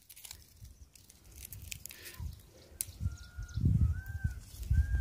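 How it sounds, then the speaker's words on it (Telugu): A peacock calls in a forest: a few short, thin honking cries that are faint and distant, coming near the end over low rustling and handling thumps. "అబ్బా నెమలి నెమలి అడుస్తుంది ఇక్కడ"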